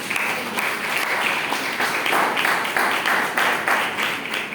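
A church congregation breaks into steady, dense applause that fills the room evenly for several seconds, with many hands clapping together and no voice on top.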